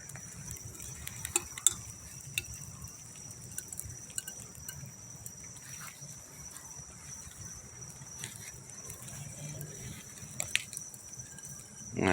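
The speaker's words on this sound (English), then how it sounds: "and I hear that tin sizzling" Peace Tea tin can burning in a campfire, soft crackling and sizzling with faint ticks and pops over a low rumble, plus a steady high whine above it; no voices.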